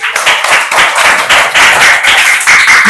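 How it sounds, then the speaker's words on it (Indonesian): A primary school class claps hands together during a lesson, a loud burst of dense, uneven clapping lasting a few seconds, close and energetic. "Tepuk tangan untuk kita semua."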